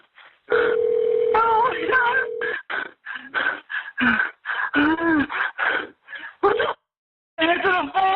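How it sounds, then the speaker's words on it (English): A steady telephone tone sounds during a 911 emergency call captured on police bodycam, running for about two seconds near the start while urgent voices talk over it and continue after it stops. "Answer the phone!"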